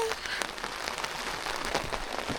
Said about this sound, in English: now it's raining and we can still